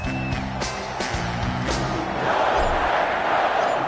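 A stadium crowd roars and cheers in Madden 21 before a Dallas Cowboys versus Green Bay Packers football game, a loud sustained swell of voices with a few sharp shouts and thumps layered in.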